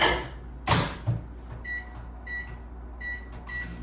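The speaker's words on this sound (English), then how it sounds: "I'll just melt it in the microwave." Microwave oven melting butter in a home kitchen while baking oatmeal lace cookies: a sharp door clunk and button presses, then a steady hum with repeated beeps, close and fairly loud, no talking.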